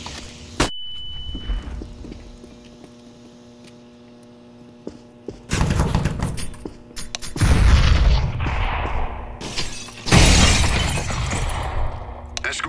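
Video game grenades go off, a flashbang and an incendiary, in several loud bursts with sharp cracks and roaring fiery noise, separated by a quieter hum, while a voice calls out throws.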